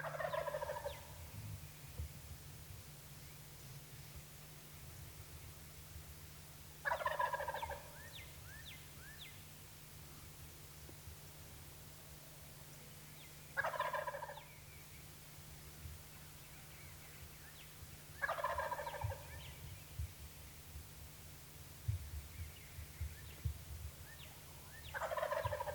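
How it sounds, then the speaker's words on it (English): A wild longbeard turkey gobbling at dawn from a tree limb, five rattling gobbles spaced several seconds apart, moderately distant over a steady low hum and light rustling. "He gobbled and gobbled and gobbled"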